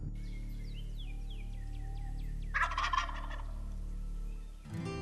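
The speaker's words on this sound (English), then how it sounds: "We thought we heard a bird gobble across another flat." A wild turkey gobbles once in a loud burst across a flat during spring turkey season, after a run of smaller bird chirps in a quiet outdoor setting.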